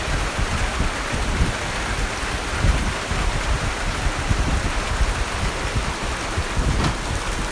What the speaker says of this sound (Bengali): গতকাল বিকেলে আমাদের খোকসায় মুষলধারে বৃষ্টি হচ্ছে, সেই বৃষ্টির কিছু চিত্র।